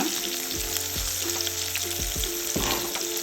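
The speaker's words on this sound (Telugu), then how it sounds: "పచ్చిమిరపకాయలు వేగాలి" Green chillies fry in hot oil with a steady, close sizzle, broken by a few spoon scrapes and stirring knocks against the pan.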